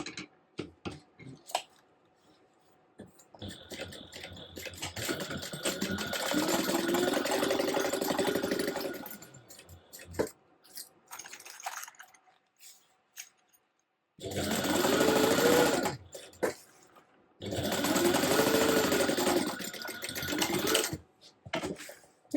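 A sewing machine basting fabric layers together for a gusset runs in three long bursts of rapid, steady stitching, with quiet pauses and small handling clicks between runs.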